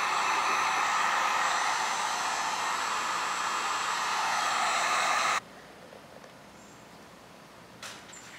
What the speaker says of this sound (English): We're going to do the same with the heat gun, but we're going to use gloves.